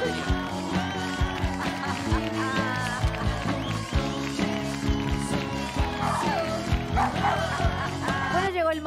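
Dogs bark and whimper in short yips and yelps, many quick cries scattered over a dense bed of music and voices on a television program set.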